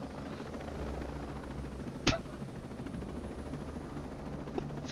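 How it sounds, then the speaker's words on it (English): A small helicopter flies in the video game Ghost Recon Breakpoint, giving a steady whirring rotor drone throughout, with one sharp click partway through and a fainter one near the end, and no voices. "I'm gonna fly over to the smaller chopper."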